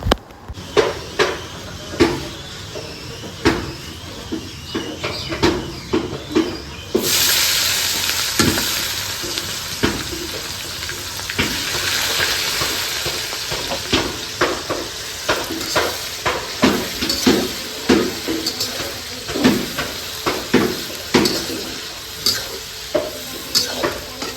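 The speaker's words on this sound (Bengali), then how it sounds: "তেজপাতা গোটা জিরে দুটো শুকনো লঙ্কা যা যেটা দেয় আর কি তো সেগুলো দিয়ে ফোড়ন দেবো" Whole spices (bay leaf, cumin seeds and dried red chillies) hit hot oil for a tempering before duck meat goes in; a loud, steady sizzle jumps up partway through, with sharp spattering crackles and stirring clatter throughout, no talking.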